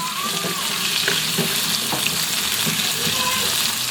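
Potatoes and carrots fry in a pan with a loud, continuous sizzle as a utensil stirs them in a few scattered knocks and scrapes, heard up close.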